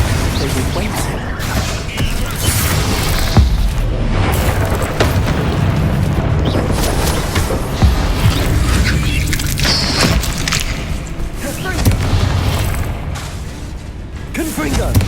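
Confringo fire spell blasts in Hogwarts Legacy sound as loud, continuous booms and crackling impacts, layered over game music and combat effects, with a voice casting the spell.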